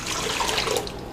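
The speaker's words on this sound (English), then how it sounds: "I'm going to pour it in my pan right here." Warm water at about 115 degrees is poured from a container into a pan for pizza dough, making a short, steady splashing pour heard alone.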